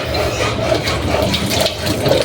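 Tap water runs in a steady, loud, close splashing stream, filling continuously with a gurgling wash and no talking over it.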